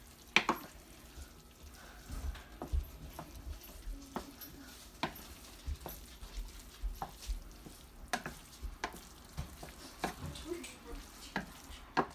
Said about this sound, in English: So we're going to mix these up.